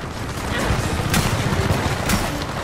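Gunfire aimed at the player in the Gears of War 4 video game, a dense continuous barrage of shots and impacts with a few sharper cracks standing out, loud and close throughout.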